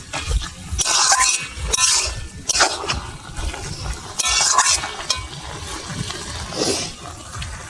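Spinach curry with lentil dumplings stirred in a pan, the spoon scraping and churning in repeated strokes over a steady low sizzle, close and fairly loud, with occasional clinks.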